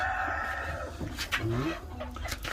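Chickens on a farm give clucks and short squawks over a continuous low hum and a steady bed of background noise, fairly close, with no voices.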